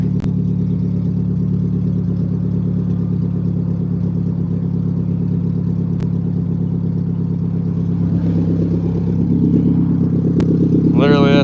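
Car engine idling with a possible misfire, a steady low rumble heard close up throughout, with faint clicks and a rising whine at the end.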